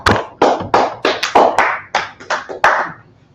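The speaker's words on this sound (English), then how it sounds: "Clap it up for the class. Clap for the class." An audience claps for a class in a Harlem, New York gathering: a series of about ten short, sharp bursts of hand claps in a loose rhythm, close and fairly loud, fading out at the end.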